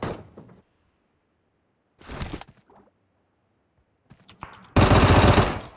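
Enemy automatic gunfire in PUBG Mobile: a short burst near the start, a brief volley around the two-second mark, scattered shots, then a loud sustained close burst at the end.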